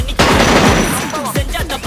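Rapid bursts of video game gunfire crackle loudly through the clip, with repeated shot transients and a dense, busy mix of game effects behind them.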